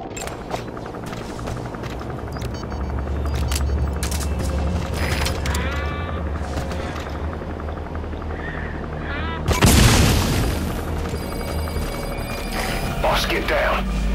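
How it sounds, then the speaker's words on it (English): A loud burst erupts about two-thirds of the way through a Metal Gear Solid V: The Phantom Pain mission, breaking over a steady bed of game ambience and mechanical clatter, with radio voices speaking before it. "Explosion spotted."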